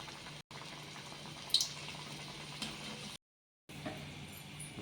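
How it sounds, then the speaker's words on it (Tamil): Samosas deep-fry in hot oil with a steady, close bubbling fizz and scattered small pops, briefly cutting out twice, with no voices. "நம்ம ரெடி பண்ணி வச்சுருக்க அந்த சம்சாவை எண்ணெயில் போட்டு நல்லா பொரிச்சு எடுத்துக்குவோம்"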